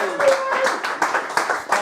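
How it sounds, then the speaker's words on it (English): Audience applause for a performer at a small live music evening, a steady patter of many hands clapping close by for about two seconds. "So can we have a big round of applause for Janice Windle?"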